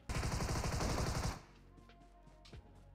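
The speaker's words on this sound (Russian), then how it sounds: "Чё за странные выстрелы такие?" A rapid burst of automatic gunfire rattles for about a second, followed by a few scattered distant shots in PUBG Mobile's Metro Royale mode.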